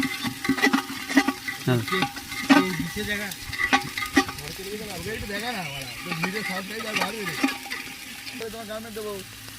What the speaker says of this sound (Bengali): কিছুক্ষণ ভাজতে হবে, নাহলে গন্ধটা রয়ে যাবে, ওই জন্য ভাজতে হবে মশলাটা